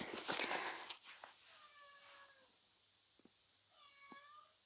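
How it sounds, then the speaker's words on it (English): A cat meows several times, drawn-out and plaintive, with a short pause between calls. Earlier there are soft knocks and rustling nearby. "My cat sounds very sad."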